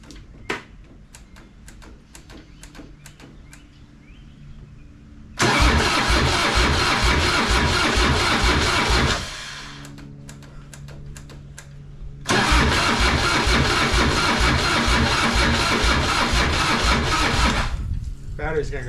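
Starter motor cranking a 1999 Harley-Davidson Fatboy engine in two long bursts of loud rhythmic churning, separated by a pause, with clicks and handling noises before the first attempt; the engine does not catch.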